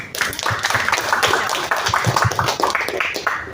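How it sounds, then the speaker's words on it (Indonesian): Group clapping at a children's Islamic quiz competition between Quran schools, a steady run of hand claps filling the room after one team scores, fairly loud and close, with no talk over it. "Tepuk tangan dulu semua."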